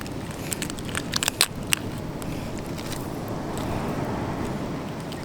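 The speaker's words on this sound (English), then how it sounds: "What I'm going to do right now is just rinse this guy in the ocean water." A cleaned crab is rinsed in ocean water at the shore, with close splashing and sloshing, a few sharp crackling clicks, then a steady wash of water and wind.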